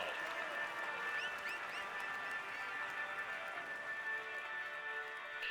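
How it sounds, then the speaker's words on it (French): A large crowd applauds at the Tour de France 2025 podium ceremony in Toulouse, a dense, steady wash of clapping and cheering that holds at an even level throughout. "Allez, on l'applaudit encore."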